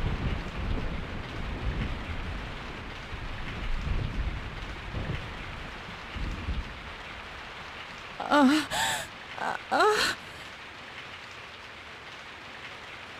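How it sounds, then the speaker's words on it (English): Steady rain with low rumbles of thunder fills a stormy night scene in Resident Evil 3: Nemesis, a continuous wash of downpour with distant booms, joined late by a few brief gasping vocal sounds. "I woke up to the sound of falling rain."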